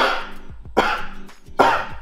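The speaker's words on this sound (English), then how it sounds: "I'm supposed to cough deeply about 4 times, so I'm going to try to cough." Three deep, forceful coughs spaced about a second apart, close and loud, with no talking.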